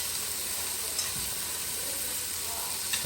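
Okra and tomatoes cook in a pan with a steady, soft sizzle and hiss, faint and even throughout with no talking.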